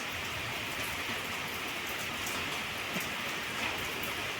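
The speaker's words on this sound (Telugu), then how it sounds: "నయమ్మలే వర్షం అండి," Steady rain falling outdoors, a soft even hiss of drops on surfaces, fairly faint and continuous with no talk.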